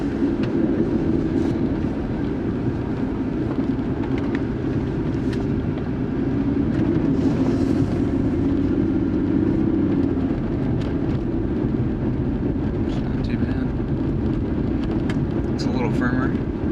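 A Ford Explorer with upgraded torsion bars on a test drive around the block, its steady road and engine rumble droning continuously from inside the cabin with a few faint clicks and rattles.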